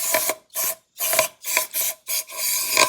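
Burned-out gunk scraped from the engine of a Stiger SL 1543 mini tractor, heard as loud, close rasping strokes in six or seven short bursts with brief silent gaps between them.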